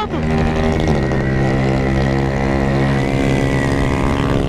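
A Honda CG 190 motorcycle rides along a street, its engine droning loud and close with a steady tone that rises slightly as it pulls, continuous and alone for the whole stretch.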